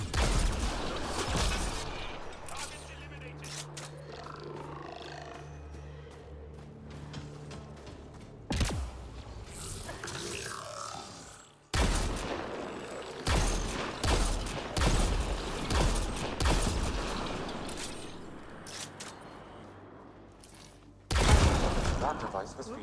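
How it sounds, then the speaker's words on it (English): Gunfire and mechanical clatter as a Kett device is shot and destroyed in Mass Effect Andromeda, bursts of shots and crashing impacts among game effects, with dialogue spoken over much of it. "Shooting the device will destroy it."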